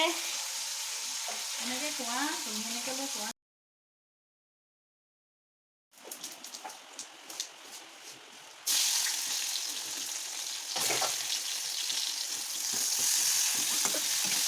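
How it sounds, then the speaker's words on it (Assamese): Fish sizzles and crackles steadily in hot oil in a pan, a dense frying hiss interrupted by a short silence, then louder spattering with occasional scrapes of stirring. "এয়া মাছ ভাজি আছে।"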